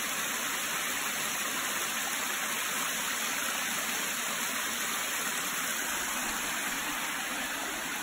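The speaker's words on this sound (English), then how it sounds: "we found this waterfall, which is really cool" A waterfall in Southern Illinois pours with a constant, loud rushing hiss that stays even from start to finish, with no voices over it.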